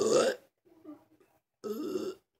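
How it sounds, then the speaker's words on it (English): Two loud close burps come after drinking a Quick Revive drink. A faint low vocal sound falls between them. "It makes you burp a lot though"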